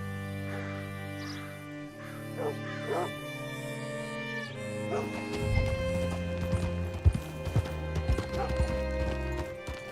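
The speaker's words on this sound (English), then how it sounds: "Hitch your horse up here." Horse hooves clip-clop in an uneven rhythm over a layered musical backdrop in the video game Red Dead Redemption 2, with a brief whinny-like sound in the mix.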